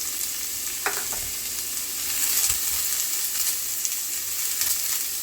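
Onion and celery fry in oil in a pan for stuffing, a bright steady hiss of sizzling close by with a couple of light knocks from a utensil, no talking.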